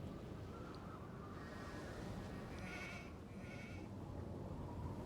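In the Nancy Drew game The Haunting of Castle Malloy, a sheep bleats twice over a steady outdoor ambient hiss, fairly faint and in the middle distance, with no talking.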